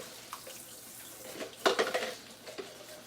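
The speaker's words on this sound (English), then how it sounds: "let me rinse out these cups" Cups rinsed under a running kitchen tap, a soft steady flow of water with clinks and knocks of dishware in the sink, close and fairly quiet.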